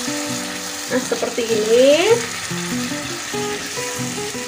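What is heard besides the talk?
spice paste simmering and sizzling in a pan after adding water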